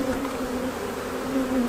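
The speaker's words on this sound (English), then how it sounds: "just so many bees, and I'm only in the top box" Honey bees from a booming spring hive in East Central Indiana swarm around the opened top box, a dense continuous buzz with a steady hum and wavering overtones, close and loud with no talking.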